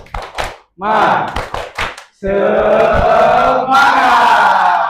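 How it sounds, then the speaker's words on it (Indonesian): A classroom of children does a rhythmic spirit clap, with a few spaced claps and shouted chants followed by loud, sustained clapping and cheering from the whole group. "Ayo, tepuk semangat."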